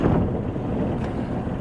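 Diesel engine of a Sun Odyssey 37 sailboat starting after the glow plug is preheated, giving a steady low rumbling drone that holds close and loud for the whole moment.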